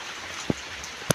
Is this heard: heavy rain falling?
yes